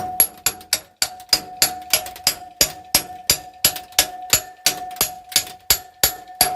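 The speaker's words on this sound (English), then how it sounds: "With the little hammer, the pinball hammer." Sharp metallic taps from a small pinball hammer on a very old window fan, struck repeatedly in a fairly even rhythm, about two per second, each ringing briefly before the next.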